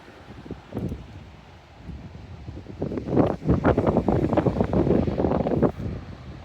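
On a beach at high tide, wind buffets the microphone in gusty, rumbling bursts that grow stronger and more continuous partway through.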